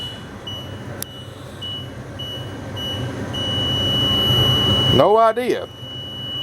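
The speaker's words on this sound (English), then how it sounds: "buzzer, something going off here." A steady high-pitched electronic buzzer tone sounds continuously in a 2000 or 2001 Winnebago Adventurer Class A motorhome, warning that the jacks are down, ending with a brief spoken remark nearby.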